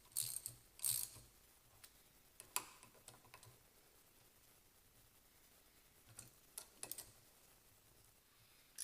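Differential carrier cap bolts being snugged down in a cross pattern on a 168mm limited-slip differential: faint, scattered metallic ticks and clicks of a ratchet, spaced irregularly across a quiet background.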